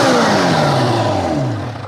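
Kawasaki Ninja H2 motorcycle engine revving hard, a brief loud roar with falling pitch as the revs drop.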